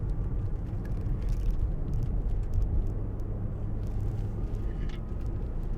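A 2005 Jaguar XJ 2.7 TDVi Executive saloon drives up a bumpy hill, giving a steady, close low rumble of engine and road noise with faint knocks and rattles and no voices.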